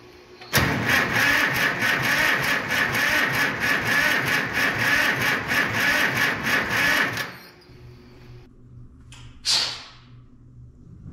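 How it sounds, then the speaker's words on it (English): An engine on a vehicle bought at auction, left sitting for years and apparently starved of fuel, cranks lumpily without catching: a loud, rhythmic starter churn runs for about seven seconds, then cuts off, followed by a brief squeak. "Almost seem like they're not getting fuel, so you kind of got that lumpy crank"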